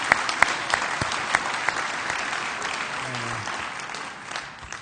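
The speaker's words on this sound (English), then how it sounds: "And we will applaud for him." Audience applause at an award ceremony honoring a business leader, steady dense clapping filling the room throughout, with no voices on top.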